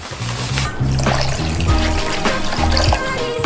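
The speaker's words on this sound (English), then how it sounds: "only now do we pour in the candy coating" Candy coating being poured into a mold sitting in a water bath, a steady liquid trickle and pour running close by throughout, with soft dribbling splashes.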